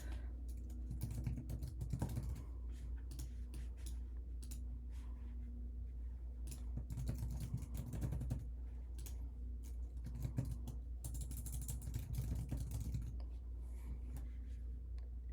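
Typing on a computer keyboard while filling out an evidence intake form: quick bursts of soft key clicks, close and fairly quiet, with short pauses between runs over a constant low hum.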